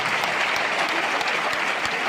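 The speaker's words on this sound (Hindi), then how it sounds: "एक बार विधायक जी के लिए जोरदार ताली हो।" A rally crowd gives loud, dense applause for the local MLA, a steady wash of close clapping with no voices over it.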